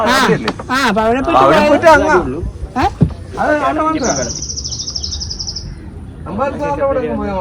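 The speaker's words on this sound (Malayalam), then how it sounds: "നല്ല കുഞ്ഞു കിളികളുടെ ശബ്ദം." A thin, rapid high-pitched chirping trill of small birds rises over someone speaking, with talk before and after the bird sound, at Munroe Island mangroves in Kollam.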